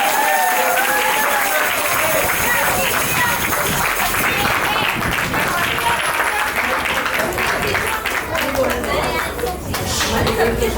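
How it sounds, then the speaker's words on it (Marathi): An audience at a Maharashtrachi Lokdhara folk dance programme claps heartily, a dense, steady roar of applause sustained for several seconds with crowd chatter and voices mixed in. "तुम्ही सगळ्यांनी टाळ्या वाजवा मनापासून"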